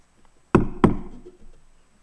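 Two sharp knocks land close together on a door, loud and near, followed by a brief quiet tail with no speech.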